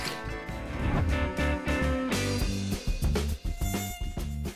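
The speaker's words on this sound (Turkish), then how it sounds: "Sivrisinekler çok sinir bozucu." A cartoon mosquito buzzes in a continuous, loud, wavering drone that rises and dips in pitch, layered over busy animated-show sound with no talking.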